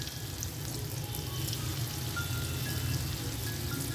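Onion rings coated in cornflakes frying in oil, a steady, close sizzle with fine crackling bubbles throughout and no voices.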